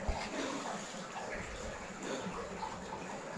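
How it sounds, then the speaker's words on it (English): Water from a waterfall inside a cave rushes in a steady, dense roar that fills the whole stretch without a break. "A waterfall back there."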